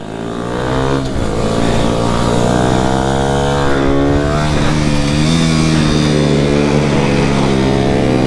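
A motorcycle engine swells and keeps pulling, loud and close, with a sustained rising drone and shifting pitch as the bike accelerates.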